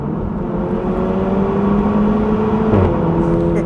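A 2012 VW Golf GTI 35th Edition with its exhaust resonator deleted drones with a rough, steady engine note throughout, loud and close, with a slight swell near the end and no talking.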